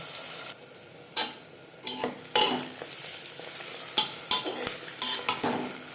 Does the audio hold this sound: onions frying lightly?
yes